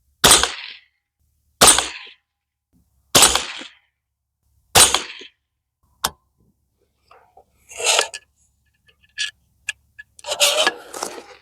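A rifle with a Bear Creek Arsenal .22 Magnum upper fires four sharp, loud shots about 1.5 seconds apart, fired into dirt outdoors. Quieter clicks and handling rattles follow.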